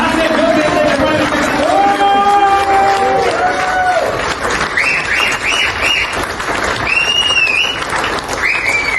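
A crowd at the grand launch of the DLS Bio Magnetic Kit breaks into clapping and cheering, mixed with hubbub and voices speaking over it, with music-like tones weaving through the noisy, busy scene.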